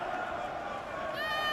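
A nervous Arsenal crowd in the stadium during a women's league match against Chelsea gives off a broad, sustained roar and murmur, with a commentator's voice speaking over it.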